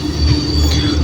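A Pakistan Railways train passing on the tracks, a dense, loud, steady rumble of wheels on rail with a thin high squeal running through it, close by and without voices.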